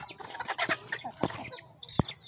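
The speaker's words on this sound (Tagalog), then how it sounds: "Ito ang aking mga alagang manok." Native Bisaya backyard chickens clucking close by in a short burst of soft, irregular clucks ending with one sharper call.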